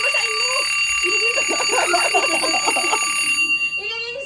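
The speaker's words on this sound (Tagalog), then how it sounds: "Ay, nag-a-alarm na" A fire alarm sounds indoors at a birthday surprise, a loud continuous high-pitched electronic tone with pulsing beeps, while several people talk and shout excitedly over it before the alarm cuts off near the end.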